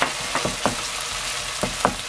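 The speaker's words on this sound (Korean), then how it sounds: "약한 불에서 볶아줍니다" Onions stir-frying in a pan over low heat, a steady soft sizzle with a few light scraping clicks from stirring, close and alone without talk.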